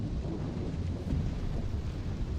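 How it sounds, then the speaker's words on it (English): A steady wash of rain with low rumbling thunder fills the scene, dense and continuous throughout with no voices. "Rain."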